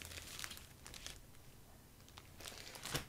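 Plastic bag holding several unboxed items crinkles and rustles up close in irregular bursts, with a sharper crackle near the end and no talking.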